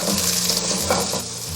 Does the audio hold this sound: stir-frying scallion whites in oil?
yes